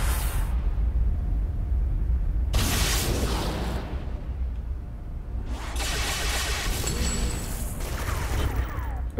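Gunfire in the City of Heroes video game: a sharp burst of shots, then a longer stretch of rapid, crackling fire later on, loud and close over a low steady rumble.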